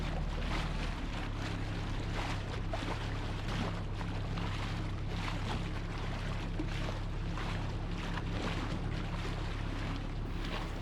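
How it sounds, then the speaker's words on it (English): A dinghy's outboard motor drones steadily beneath strong wind and splashing water as the small boat crosses open water toward the little town of Northport, Michigan, with no voices. "we head by dinghy into the little town of Northport"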